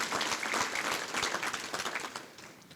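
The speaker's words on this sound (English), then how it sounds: "Can we please give an additional round of applause to our additional sponsors for their continued support of the Chamber efforts and events" An audience at a regional chamber of commerce economic forecast event applauds its sponsors, a dense, steady round of clapping from a large crowd that tapers off toward the end.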